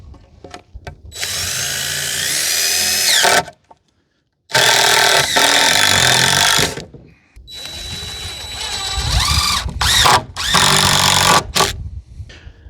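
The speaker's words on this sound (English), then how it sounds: "While putting the screws in, I was trying to hit the studs on the other side." A power drill drives screws into wooden 2x6 boards in several long whirring bursts, loud and close, rising in pitch as each screw seats, separated by short silences.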